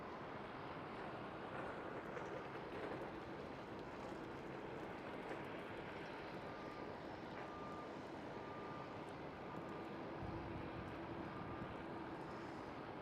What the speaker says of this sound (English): There we do have the American Airlines 787.